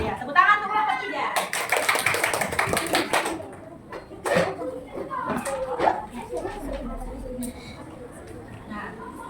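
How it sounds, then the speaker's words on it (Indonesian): A class applauding one group of students, a burst of clapping from many hands that fades into chatter and a teacher's voice talking over the room. "Ya, tepuk tangan untuk kelompok 3."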